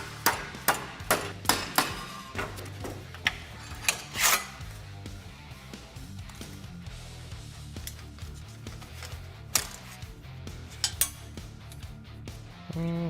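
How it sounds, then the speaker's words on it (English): A dead blow hammer strikes 20 gauge sheet metal clamped in a vise to finish bends, a series of sharp close metallic hits, rapid at first then more spaced out, with no talking. "I'm just going to use my dead blow hammer and finish the bends."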